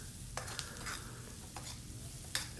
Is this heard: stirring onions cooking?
yes